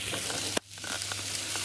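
Schupfnudeln and onions fry in a pan with a steady, close, dense sizzle, briefly interrupted by a sharp clatter and short dip before the hiss resumes.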